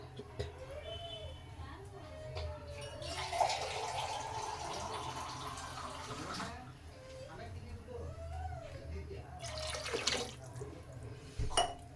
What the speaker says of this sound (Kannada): ಇವಾಗ ನಾನು ಇದಕ್ಕೆ ಇನ್ನೊಂದು ಕಪ್ ನೀರನ್ನ ಆ್ಯಡ್ ಮಾಡ್ತೀನಿ